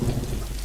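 Steady heavy rain with a deep thunder rumble fills a tabletop pirate role-playing session, a dense, loud, continuous wash of rainfall close up.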